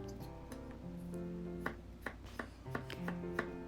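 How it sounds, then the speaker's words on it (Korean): A knife cuts cucumber into half-moon pieces on a board, giving a run of crisp, close chopping taps at an uneven rhythm while a soft tonal hum runs in the background. "오이도 반으로 자르고 다시 반으로 잘라서 반달 모양으로 잘라줄 거예요"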